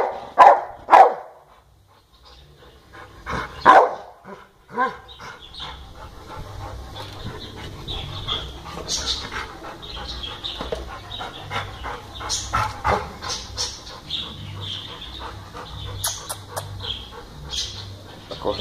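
A pit bull barks in a few sharp, loud bursts near the start, then pants and moves about with faint birds in the background.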